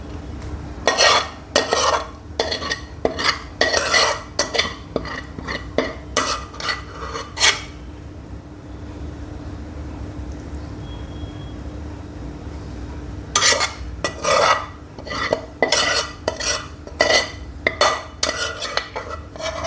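Metal utensil scraping and clinking against a pot while spreading a layer of mutton biryani, bursts of rapid scrapes and knocks, a quiet pause in the middle, then more brisk scraping at close range.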